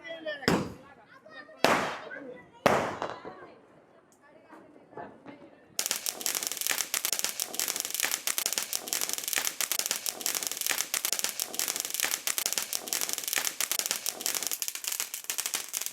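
Diwali firecrackers go off in three sharp, loud separate bangs, followed by a long, dense run of rapid crackling bursts that continues steadily to the end.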